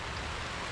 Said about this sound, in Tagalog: Ay, umurada na naman ang ulan.